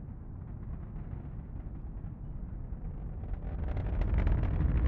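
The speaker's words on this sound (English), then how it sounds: "we're hearing the roar of those 9 Merlin engines here at the press site" A SpaceX Falcon 9 rocket's nine Merlin engines rumble from a distance at a Cape launch press site, a deep continuous roar that swells louder and harsher toward the end.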